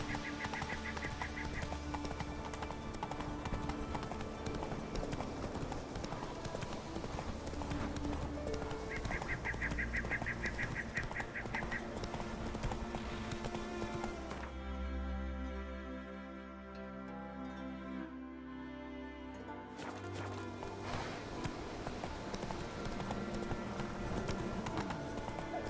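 A horse galloping in The Witcher 3 video game, rapid rhythmic hoofbeats under game music, loud and steady, briefly dropping to a quieter passage before the pounding returns.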